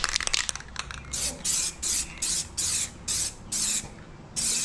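Spray paint hissing onto the wheels of a Dodge Dart, about eight short even bursts in a steady rhythm, close and fairly loud after some initial rattling.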